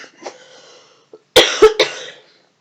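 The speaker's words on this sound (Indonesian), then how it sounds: "Maaf ya, begini lagi batuk." Several sharp, harsh coughs in quick succession from a person, close and loud, following a softer throat sound and a brief pause.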